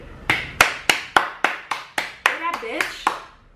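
Ten or so crisp hand claps land in an even, brisk rhythm, close and loud, forming a short round of applause from a single person.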